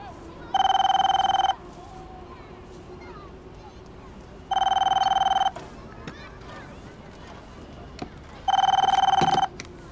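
A telephone rings three times in an indoor scene, each bright electronic ring lasting about a second and spaced evenly apart, clear and close over a quiet room hum.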